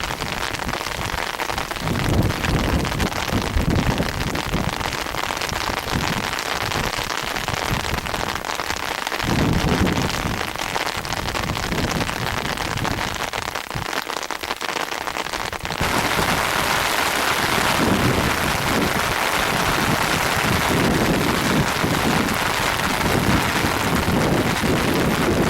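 Heavy rain shower lashing down on an open hillside at Lechrea Hill in Glen Almond, a loud continuous hiss of rain on surfaces with gusts of wind buffeting the microphone, no voices.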